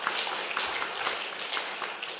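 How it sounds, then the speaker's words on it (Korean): A church congregation claps for the children seated in the sanctuary, a quiet, even patter of many hands with no voices. "우리 어린이들 위해서도 박수 한번 쳐줄까요?"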